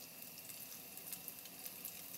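Apple fritter batter bubbles in hot oil with a steady, faint sizzle and soft crackling, continuous and even throughout, with no talking.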